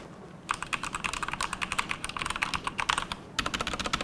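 Rapid, crisp clicking of keys typed on an RGB mechanical gaming keyboard with double-shot ABS keycaps, close and loud, in quick bursts with a brief pause near the end.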